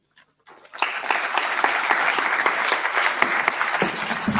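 An audience at a panel discussion on race, politics and leadership breaks into steady, dense applause that rises quickly and holds at full strength.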